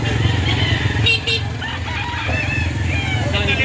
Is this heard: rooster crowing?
yes